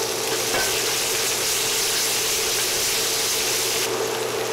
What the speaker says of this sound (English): I'm going to let my garlic sweat and roast here